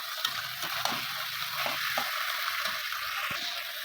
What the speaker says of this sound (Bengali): সিমটাকে ভালো করে ভেজে নেবো